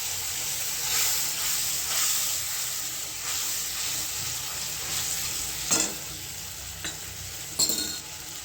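Ground mustard and poppy seed paste fries in oil for a rui fish curry, giving a continuous close sizzle and hiss with spoon stirring and a few light clinks against the pan.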